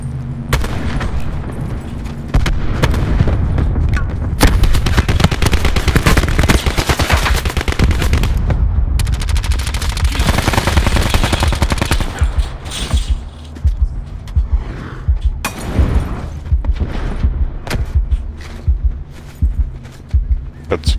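Rapid automatic gunfire from the Black Ops 4 Blackout battle royale game, loud, sustained bursts with booms and then scattered shots, while players talk over the action.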